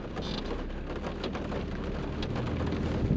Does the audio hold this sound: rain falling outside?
yes